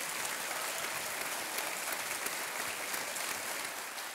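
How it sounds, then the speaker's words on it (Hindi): Studio audience on a television quiz show applauding a contestant, a steady, even wash of clapping at moderate distance with no voices over it. "एक बार तालियां बज जाएं इनके लिए।"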